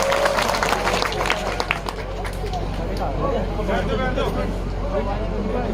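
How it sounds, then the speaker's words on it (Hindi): Audience at a public speaking event claps loudly to welcome the chief guest, a steady broad wash of applause and crowd murmur that continues under voices throughout. "सभी से निवेदन करूंगा कि तालियों के साथ, जोरदार तालियों के साथ इनका स्वागत करें"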